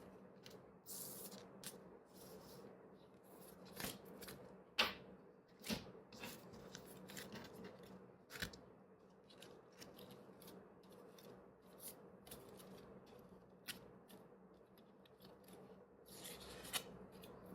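Tarot cards are shuffled and laid out by hand, making soft rubbing and sliding sounds with scattered sharp flicks and taps, close and quiet, with no speech.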